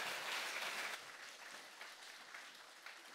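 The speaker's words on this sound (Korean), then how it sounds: "다시 한번 큰 박수로 예. 우리 교수님께" Church congregation applauding a professor after a lecture, a soft, distant wash of many hands clapping that fades slightly after the first second and continues evenly.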